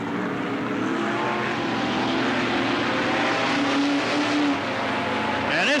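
Race cars roar around the dirt oval at Cottage Grove Speedway, a loud, continuous engine howl with a pitch rising as a car passes near the end.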